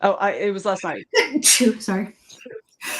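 A sudden, loud sneeze bursts out among relaxed conversational talk in a casual chat show, with people speaking just before and after it.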